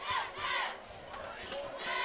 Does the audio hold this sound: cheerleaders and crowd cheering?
yes